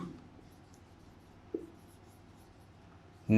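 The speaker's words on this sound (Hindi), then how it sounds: "तो हम कुछ इस तरह से लिखेंगे" A maths equation is written out by hand as faint, soft scratching over a low steady room hum, with a small tap partway through and a louder knock at the end.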